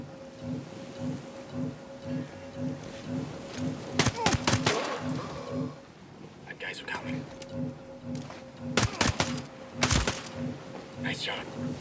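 Gunfire in the Ghost Recon Breakpoint video game, with sharp bursts of rapid shots around the four- and nine-second marks over a steady rhythmic ambient pulse, alongside quiet voices.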